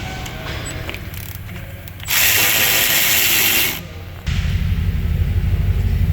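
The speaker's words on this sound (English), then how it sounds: "So I'm going to be using my mirror key to break it free" A wrench works to break a rear caliper bracket bolt free on a 2021 Chevy Tahoe, with a sustained loud mechanical whir in the middle and a heavy rumbling drone starting near the end, close by.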